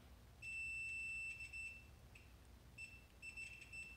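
A multimeter continuity-test beep while checking wiring during a repair of a 20-year-old Shop-Vac, a faint high steady tone sounding twice in short bursts with a quiet gap between.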